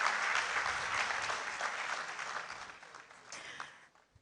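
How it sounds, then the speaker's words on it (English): Audience applause at the 14th Kwame Nkrumah Memorial Lecture, a dense, lively clapping from a large hall that gradually thins and fades out over a few seconds. "We can applaud our ladies better whilst they take their seats."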